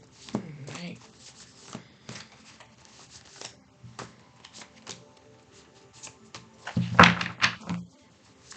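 Tarot cards shuffled for a reading, with soft repeated riffles and taps up close, ending in a louder cluster of handling sounds and a thump.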